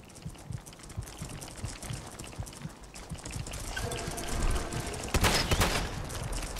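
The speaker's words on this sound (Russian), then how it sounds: "И делаем всего лишь один выстрел." A single loud gunshot cracks in the video game Fallout 4 on survival difficulty, rising out of a steady background of footsteps and ambient game noise.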